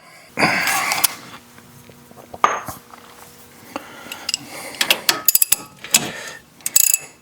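Bolts being tightened on a 2006 Toyota Matrix steering knuckle: a run of metallic ratchet clicks and clanks from hand tools, close and fairly loud, with bursts of rapid clicking and occasional tool knocks and no speech.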